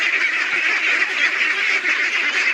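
A flock of pet ducks quacks continuously and loudly at close range while being fed banana and rice bran, a dense, unbroken chorus with no talking.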